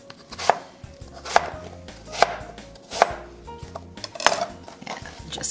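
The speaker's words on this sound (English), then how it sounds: "I am dicing these a little smaller than I would if I were making one big dish." A knife dicing apples on a cutting board, sharp rhythmic chops landing about once per second, close and distinct over a quiet kitchen background with no voices.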